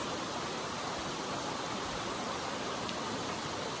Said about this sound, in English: The river speaks.